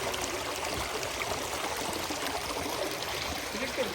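A clear river stream in a Korean national park flows steadily, a constant broad wash of rushing, trickling water with no pauses, moderately loud and even.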